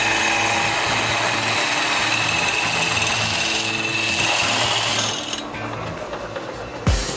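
A circular hole-saw bit drills into a mountain bike frame tube clamped in a vise, giving a steady, loud mechanical whir with grinding and a faint high whine that eases slightly near the end, with no talking.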